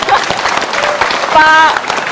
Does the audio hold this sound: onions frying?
no